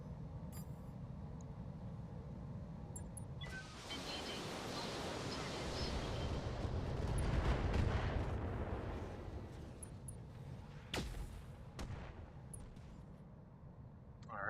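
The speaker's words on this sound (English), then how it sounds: "going to LRMs to this guy, Gauss rifle to this guy" Gauss rifle and LRM missile fire erupt in the Battletech video game, a swelling roaring barrage of blasts that peaks then fades into scattered sharp impacts and cracks, moderately loud with no talk over it.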